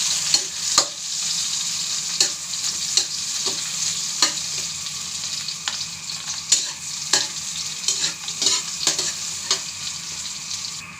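Onion and garlic frying in hot oil for ginisang miswa, a bright continuous sizzle punctuated by regular scrapes and taps of a stirring spoon, close and with no talking.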